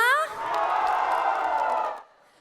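Supporters of a regent candidate roar and cheer at a public debate in Musi Rawas Utara, a sustained crowd swell of nearly two seconds that cuts off abruptly, with a voice heard briefly at the start.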